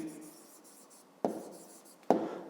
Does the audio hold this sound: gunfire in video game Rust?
no